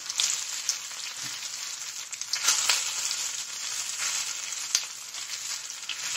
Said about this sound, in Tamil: இது கொஞ்சம் நல்லா எண்ணெயில் வதங்கட்டும்.